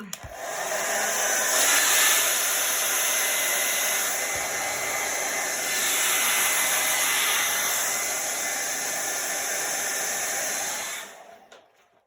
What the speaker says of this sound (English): Get the blow dryer out.